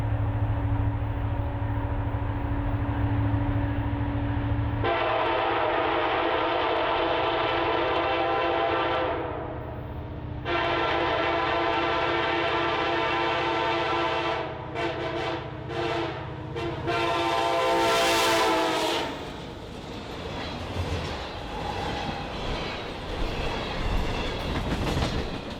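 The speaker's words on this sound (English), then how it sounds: "a much more modern pair of SD-70M-2s steaming north under clear skies on a chilly spring afternoon" Pair of modern CN SD70M-2 locomotives hauling an all-rail iron ore train north on a chilly spring afternoon, engines droning loudly with a long horn blast, then passing cars clattering over rails.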